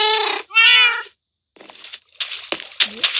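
A cat in the Minecraft video game meows twice in quick succession, fairly loud, followed by softer in-game noises and clicks.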